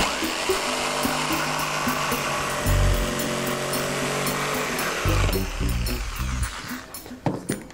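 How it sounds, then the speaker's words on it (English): A power jigsaw cuts a rectangle out of a panel between drilled holes, its loud buzzing whine running steadily, briefly dipping and restarting, then stopping near the end. "I can now use a jigsaw to take out evenly that rectangle"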